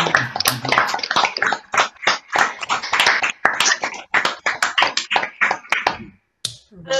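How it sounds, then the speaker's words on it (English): Participants on an online meeting clap after presentations at a Morris dance talk and workshop, scattered irregular hand claps and taps from several unsynchronised microphones, close and uneven, trailing off near the end. "So if you'd like to give a round of applause to everyone who's presented today"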